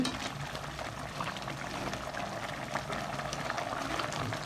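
Vermicelli simmers in water for semiya kesari, a soft, steady bubbling and light watery churn that runs continuously at low volume with no talk.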